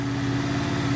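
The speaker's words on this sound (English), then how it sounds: "So as you can see, I'm turning up the revs" A Honda VFR 800 motorcycle engine runs steadily at raised revs during stator and regulator repair work, giving a continuous, even drone with no talk over it.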